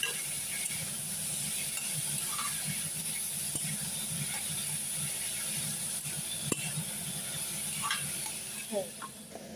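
Eggplant sizzles steadily in a frying pan, a constant close hiss with the occasional soft stir or tap over a low background hum.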